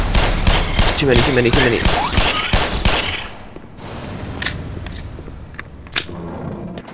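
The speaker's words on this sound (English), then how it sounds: "Shoot these things." Gunfire from shooting enemies in the video game Black Mesa: dense rapid bursts for about three seconds, then scattered single shots and impacts. A voice speaks briefly over the shooting.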